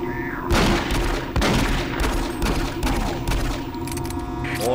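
Zombie enemies firing guns in the video game Doom 3, a dense, close burst of overlapping shots and booming impacts that runs continuously, with brief low thuds standing out amid the clatter.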